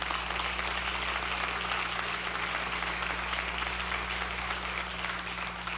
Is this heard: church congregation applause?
yes